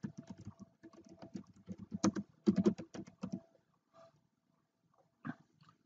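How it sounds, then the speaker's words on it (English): Typing on a computer keyboard, a quick run of close, crisp key clicks in irregular bursts, then a pause and a couple of isolated taps at the end. "we'll just type out the word membership card."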